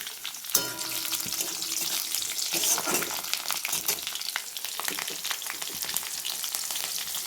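Green chillies sizzle loudly in hot oil with fried onions, a dense, steady crackle of frying with occasional stirring.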